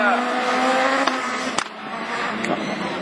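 Super 1600 rallycross cars, a Renault Clio and an Audi, racing at a French championship round in Mayenne, engines revving high with gear-change cuts and sharp accents, under French commentary.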